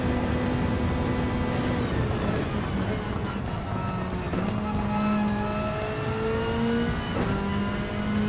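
Race car engine in Gran Turismo 7, a World Touring Car 800 event at High Speed Ring, droning steadily at high revs in sixth gear with rising and falling engine tones and occasional gear changes, continuous and close throughout.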